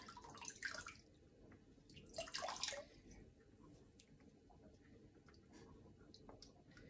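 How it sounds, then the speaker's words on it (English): Water sloshes and drips as a filter sponge from a 200-litre fish tank is squeezed, with two wetter gushes early on and soft trickling afterward, quiet and close. "Squeeze in the water."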